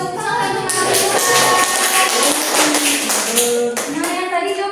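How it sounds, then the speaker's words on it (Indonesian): A class of young children claps together, a dense burst of applause carrying through the room alongside excited children's voices and chatter. "Oke, tepuk tangan."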